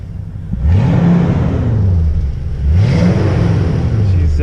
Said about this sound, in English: see what the Outlaw Flowmaster sound like